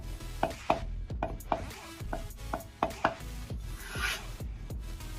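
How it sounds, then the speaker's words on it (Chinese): Green garlic sprouts being finely chopped with a knife: a quiet, close series of about a dozen light board taps in an uneven rhythm, with some soft scraping and rubbing between strokes. "再准备一些青蒜苗，洗干净后改刀切碎"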